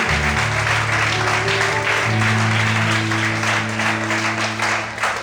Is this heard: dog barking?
no